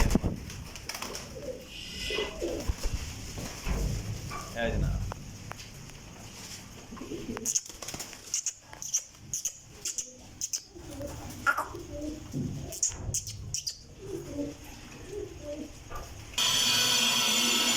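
Teddy pigeons coo softly at intervals among rustling and fluttering, with someone speaking briefly nearby.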